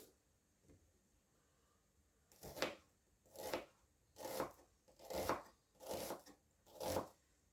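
A knife slices half a red onion thinly lengthwise on a cutting board, six crisp evenly spaced cuts close and clear in a quiet kitchen.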